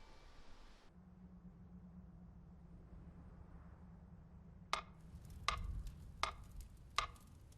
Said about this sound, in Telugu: ఈ టికింగ్ శబ్దం వినపడుతుందిగా